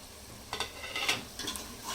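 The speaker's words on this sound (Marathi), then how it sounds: "तर ह्याला पण परतून घ्यायचंय।" Coarsely ground sesame and peanut paste sautéed in a pan, a few soft scraping stirs over a faint low sizzle, close and brief, no voices.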